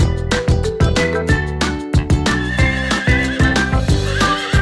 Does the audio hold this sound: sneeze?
no